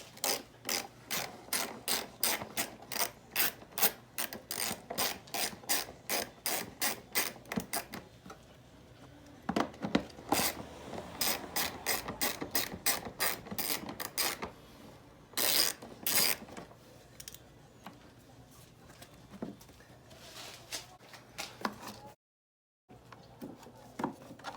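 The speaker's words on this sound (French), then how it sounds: "on va prendre notre clé de 10 mm et on va juste le déverrouiller." A 10 mm ratchet wrench loosens the bolt on a car's engine air filter housing, giving quick runs of crisp, close pawl clicks in bursts with brief pauses between them.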